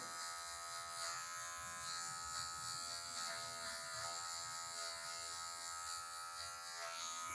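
Electric hair clipper buzzing steadily as its tip trims away a marking line cut into afro hair during a mohawk haircut, a close, continuous high-pitched whine with no talking.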